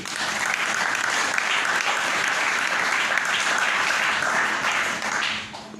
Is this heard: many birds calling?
no